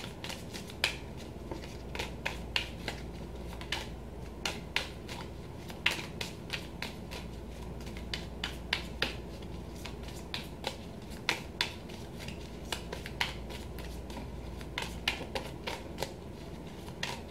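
A deck of tarot cards is shuffled by hand, with a steady run of crisp riffling clicks and flutters, fairly quiet and close, with no talking.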